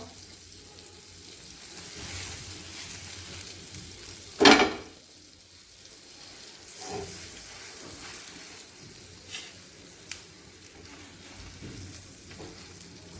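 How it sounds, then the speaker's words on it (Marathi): Pav bhaji buns toast in melted butter on a hot pan, giving a soft steady sizzle with one sharp clatter of utensil or bun against the pan partway through and a few light knocks later. "आपल्याला टाकाय पाव भाजून घ्यायचे आहेत आपण हे पावभाजीचे पाव"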